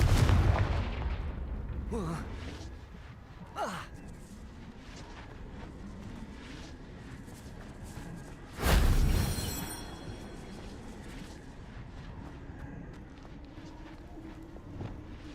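Fiery Confringo spell blasts from the video game Hogwarts Legacy: a few sharp explosive bursts, the loudest near the middle, with booming tails over a steady bed of game ambience.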